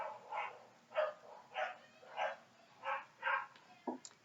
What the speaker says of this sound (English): That is literally like a 6-month-old puppy that makes that noise.